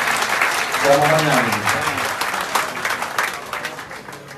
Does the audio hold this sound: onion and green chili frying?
no